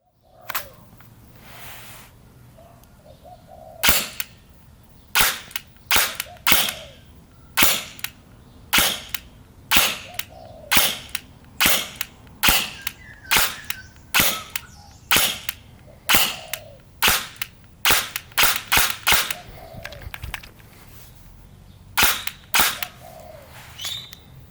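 3DG Glock 17 Gen 4 gel blaster firing hard Ultra gel balls, a long string of sharp, loud snapping shots, some spaced and some in quick bursts, each with a brief mechanical click, close and alone.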